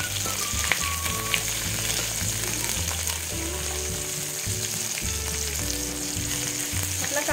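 Onion and tomato frying in a kadai give a dense, steady sizzle heard close, while a tonal musical backing plays loudly underneath throughout.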